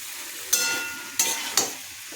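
Ridge gourd frying in a pan alongside taro and potato for a prawn curry, with a soft continuous sizzle broken by three sharp scraping stirs of the spatula.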